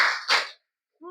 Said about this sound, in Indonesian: tepuk tangan sekali, 2 kali, 3 kali